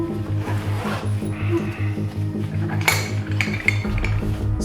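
Plates and chopsticks being handled while unpacking a box, with close clinks, taps and rustling scattered over a steady low hum.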